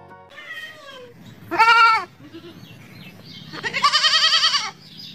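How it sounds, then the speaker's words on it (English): A goat bleats several times, with one short call, then a loud wavering bleat, then a longer shaky one, close and clear over a quiet background. "G for goat."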